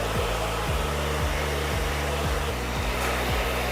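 A hair dryer blow-drying curly hair, giving a steady loud close whooshing roar with a faint rhythmic warble throughout and no speech.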